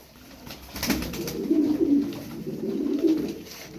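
Tumbler pigeons (game birds) cooing softly in low, rolling phrases, repeating over a faint background hiss with a few brief flutters or taps early on.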